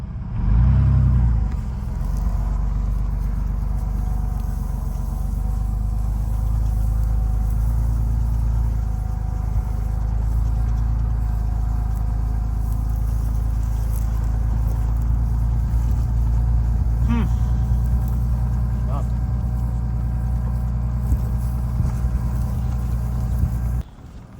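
A truck drives across a field among cows, its engine giving a steady, loud low rumble that continues throughout with little variation.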